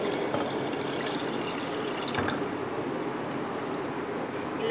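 Water pours from a jug into a pot in a steady, continuous stream, close and fairly loud, with no pauses.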